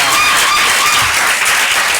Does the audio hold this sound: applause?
yes